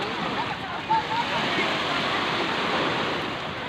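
Sea waves at Talisay beach wash in as a steady, broad surf rush, loud and continuous throughout, with a brief splash-like swell near the one-second mark.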